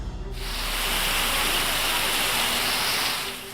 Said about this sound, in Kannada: ಬೆಳಗಾವಿಯ ಬೈಲಹೊಂಗಲದಲ್ಲಿ ಮಳೆ ಅವಾಂತರ.